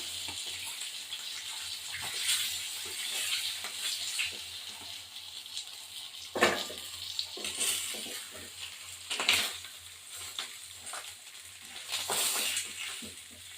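Fish heads crackle and sizzle as they finish deep frying in oil in a home kitchen wok, with scattered pops and occasional clinks of a spatula against the pan.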